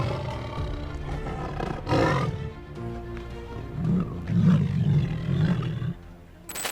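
A rescued tiger, healed from injuries and released into the wild, lets out several loud, close roars and growls in sequence with no talking.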